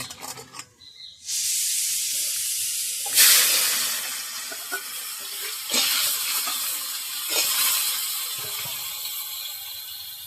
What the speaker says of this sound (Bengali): আমি কাঁকরোল ভাজা করব, তাই কাঁকরোলগুলোকে ভেজে নেব।